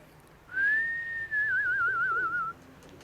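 A single long whistle signal calling pigeons rises gently, holds, then breaks into a fast warbling trill before stopping, clear and fairly loud against a quiet background.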